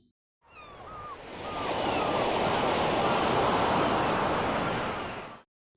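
Sea waves surging around a whirlpool in an anime ocean scene, a broad steady wash of surf rising in after a brief quiet start and holding loud and close before cutting off.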